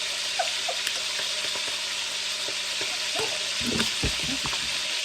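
Pork pieces fry in hot oil for fried pork sinigang, a steady broadband sizzle with bursts of sharp pops and spatters toward the end, close and fairly loud, no talking.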